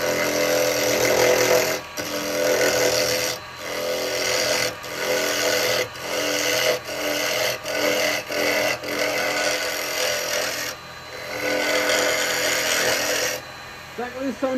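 Live edge yew spins on a wood lathe while a carbide tool cuts it, making a loud, continuous scraping whir. The sound drops out briefly several times as the tool comes off the wood, and no one speaks.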